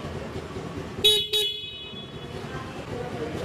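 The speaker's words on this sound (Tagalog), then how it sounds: "Busina." Two short, bright horn beeps from a 2025 Honda Navi motorcycle sound in quick succession over a low background hum, loud and close.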